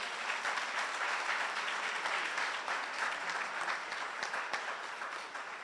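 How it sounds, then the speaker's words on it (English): Audience at a Saturday morning forum applauding, a continuous even roar of many hands clapping, fairly distant and unbroken, with no speech over it. "Give her a round of applause for that."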